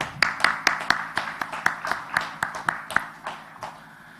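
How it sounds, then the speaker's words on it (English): A small conference audience gives a sparse round of clapping for participants and panelists, distinct individual claps in a loose rhythm that slowly thin out and fade. "I would like to request a round of applause for all the participants and for all the panelists"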